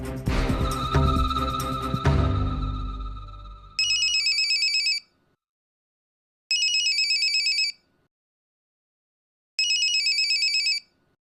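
Telephone ringtone in a Hindi TV serial scene: after a few seconds of loud music cut off, three bright electronic ring bursts, each about a second long, sound alone at regular intervals.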